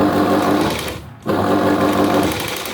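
A sewing machine runs steadily, stitching a narrow lace trim down its middle onto a V-neck blouse, with a brief pause around the one-second mark before the whirring resumes.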